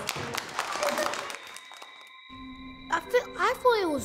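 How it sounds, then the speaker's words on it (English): Pupils clap in a round of applause during a classroom lesson, a brief burst mixed with children's voices that fades after about a second, followed by tones and talking. "And a round of applause."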